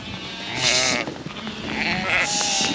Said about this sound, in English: We'll just let these run here and let these back to the field here, and yeah, we'll get these lambs loaded next.